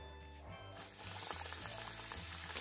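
A Brazilian pastel drops into oil and starts frying, the quiet background giving way to a bright, steady crackling sizzle that holds for the rest of the moment.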